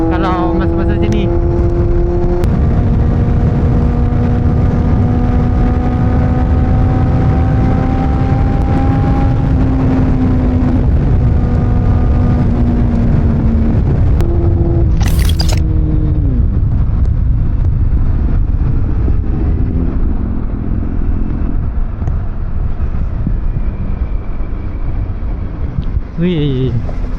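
Busy road traffic during a shift change, heard from a riding motorcycle: a steady engine drone rising and falling with gear changes, wind rush and passing vehicles, while a rider talks throughout.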